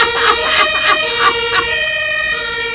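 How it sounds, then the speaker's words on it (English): A European-style two-tone police siren of the kind used on New York cop cars, loud and close, its tones alternating in a steady rhythm over a low traffic rumble. "New York is starting to change their sirens and their cop cars to European-styled sirens"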